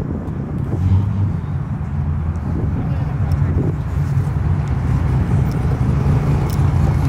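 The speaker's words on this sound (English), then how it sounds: "Another crazy looking Corvette pulling up here." A supercharged wide body Corvette pulls up at a street car meet with a deep, steady engine rumble, heard amid wind buffeting and crowd noise.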